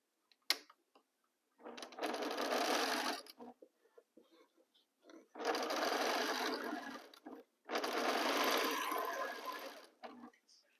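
Three sustained runs of a sewing machine stitching quilt block sections together, each a steady close buzz lasting a couple of seconds, separated by brief clicks and near silence.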